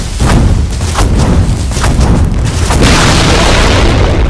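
A tower crumbles in the Dota 2 video game, a loud sustained booming rumble with a series of heavy crashing bursts, alone with no talk.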